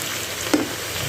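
Dry ground spices, turmeric and roasted crushed coriander, frying in a pan for mutton karahi, a soft steady sizzle with one brief louder crackle partway through, close and without speech.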